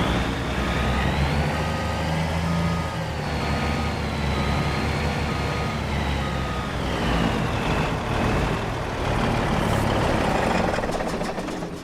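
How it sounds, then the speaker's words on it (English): Noisy V8 engines of American trucks in Farming Simulator 25 rumble loudly and continuously, a deep steady drone with a whining tone that rises and falls slightly, heard alone without talk. "These noisy V8s."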